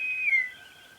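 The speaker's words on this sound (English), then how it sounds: "After that we've got the bosun's whistle" A short, thin electronic whistle from a Playmobil Star Trek Enterprise toy, a bosun's whistle sound: a single high tone that slides slightly downward and then holds briefly.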